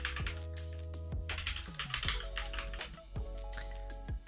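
Someone types on a computer keyboard in short, irregular clusters of light taps, close and fairly soft, under a steady electronic hum with some tonal beeps and glides.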